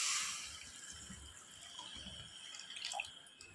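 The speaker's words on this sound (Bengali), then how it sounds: "আর ওই একই বাটির আমি 2 বাটি জল দেবো" Water trickles and drips into a pan holding sugar for syrup, with a soft splash at the start fading into light, fairly quiet dribbles and drops close by.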